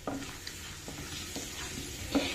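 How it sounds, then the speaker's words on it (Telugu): Tempering seeds and two dried red chillies crackling in hot oil in a pan for a bhindi buttermilk curry, a steady close sizzle with occasional sharper pops. "ఆయిల్ హీట్ ఎక్కింది. ఇప్పుడు పోపు గింజలు వేసేసుకుందాం. 2 రెడ్ చిల్లీ పోపు గింజలు అండి."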